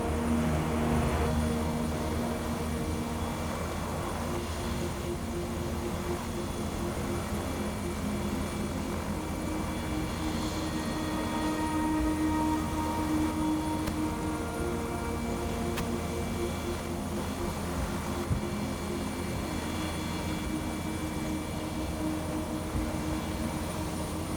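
A medical transport helicopter's steady, continuous rotor and engine drone holds throughout at a distance at a crash scene, a constant mechanical hum with no clear changes.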